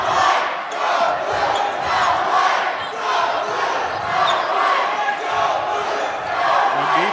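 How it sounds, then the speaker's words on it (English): A loud home crowd roars and cheers in a school gym during a boys' basketball "Pink Out" game, a dense sustained wall of voices surging in waves. "Oh, yeah, that is a very loud crowd."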